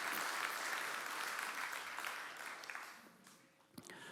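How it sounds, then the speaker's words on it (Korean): Warm applause from a church congregation at a Sunday service, steady crowd clapping that tapers off over a few seconds. "다시 한번 뜨거운 박수로 격려해 주시기 바랍니다"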